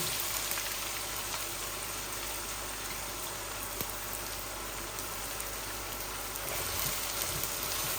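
Onions with ginger and garlic fry in a pan as a steady, even hiss and crackle that runs the whole time without pause, moderately loud and close, with no talk.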